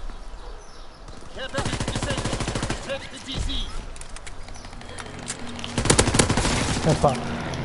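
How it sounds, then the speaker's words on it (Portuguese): Bursts of rapid automatic gunfire crackle in two heavy volleys, with scattered single shots and background game noise between them, in the video game Call of Duty: WWII. "eu não consigo me virar, já estou-me a levar tiros, Phoenix"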